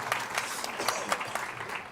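A small gathering at a Satya Narayan Vrat Katha temple event claps for Moon Dada, a modest, uneven round of applause with distinct individual claps standing out, fairly quiet and moderately close.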